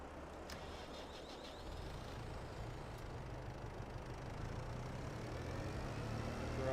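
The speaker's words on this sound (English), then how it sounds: "Drive this tractor over here." A tractor engine drives in Farming Simulator 22, a steady low drone that gradually grows louder and heavier, with a few faint clicks early on and no talk.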